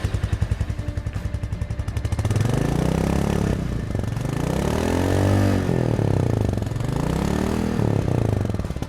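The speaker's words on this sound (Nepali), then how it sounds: "अब हामी मिटियोर 350 को एक्जिट साउन्ड सुन्न जाँदैछौँ" A Royal Enfield Meteor 350 motorcycle idles with a steady thumping single-cylinder exhaust beat, then is revved up and down several times in smooth rising and falling swells, close and loud.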